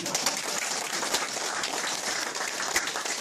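Steady, thin applause from an audience at a lecture. The clapping is a dense, even wash at moderate-to-low volume that carries on for about three seconds with no voices over it.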